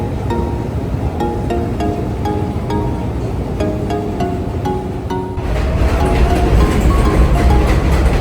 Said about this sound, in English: This is Hudson Yards subway station.